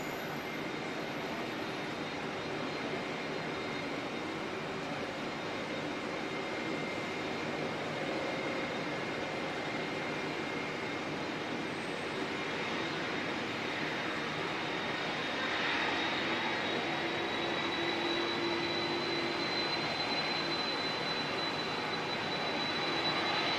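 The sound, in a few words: aircraft with CF6 jet engines at Auckland Airport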